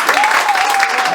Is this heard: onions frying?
no